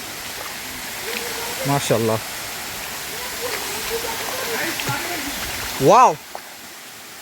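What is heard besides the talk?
Napittachora waterfall rushing water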